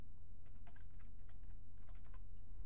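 Typing on a computer keyboard, quick soft key taps in two short bursts, faint and close over a steady low electrical hum.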